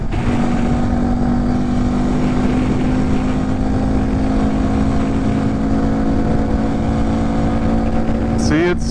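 A 2018 Honda Grom, modified for quicker acceleration, ridden with a passenger, giving a steady, loud engine drone mixed with wind rush as it climbs, close to the mic.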